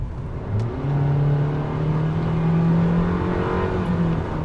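A 2021 Nissan Kicks SR small SUV accelerating hard at full throttle from about 25 mph, with a steady, loud engine drone rising slowly in pitch for several seconds, heard from inside the cabin with no talking.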